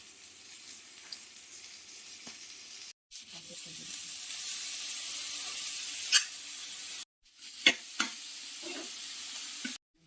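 Cabbage with ginger and garlic being tossed and stir-fried in a pan for Hakka egg noodles: a loud, steady sizzle with two brief silent breaks and a few sharp clinks of the pan.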